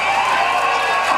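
A large crowd at an outdoor rally in Berlin cheering and shouting together, a loud, steady wash of many voices with no pauses.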